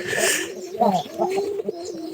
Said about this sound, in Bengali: এই যে দেখেন নতুন কবুতর, নতুন কবুতর আমাদের বাড়িতে আসে